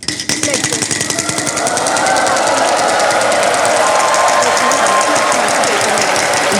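A game show prize wheel spins with rapid, loud, evenly spaced clicking that runs continuously, with a crowd and voices beneath it.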